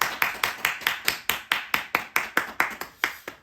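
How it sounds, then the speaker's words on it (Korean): A congregation at an online Sunday church service claps together to celebrate birthdays, about a dozen sharp, evenly spaced claps in a steady rhythm with no talk over them. "우리 다 같이 박수로 축하하겠습니다"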